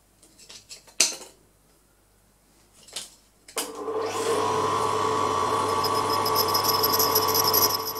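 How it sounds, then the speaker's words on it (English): A grinder works a taper onto the threads of a custom-made tap on a Proxxon PD 250/e lathe, starting after a few clicks and knocks and then holding a steady, loud whine to the end. "The next grind I did was to taper the threads to match the commercially made tap."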